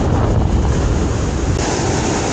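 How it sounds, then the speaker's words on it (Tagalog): Strong ocean surf pounds the shore at Sulok Beach in General Nakar, Quezon, a loud, continuous rushing wash with heavy wind buffeting the microphone and no break in the noise. "Ang lakas ng alon, eh."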